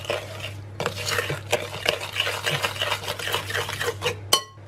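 Brown demerara sugar is stirred into oatmeal cookie dough in a mixing bowl, with steady scraping and clinking of utensil against the bowl. The close, rhythmic strokes end in a sharp clink.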